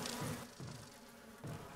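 Bees or wasps buzz in the Resident Evil remake video game, a faint, steady insect drone that swells in short pulses and plays on its own without speech.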